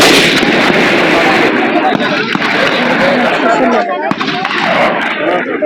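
Repeated loud gunshots at a Haryana Police training centre firing range in Bhondsi, Gurugram, sharp bursts one after another with echoing reports, close and dominant throughout.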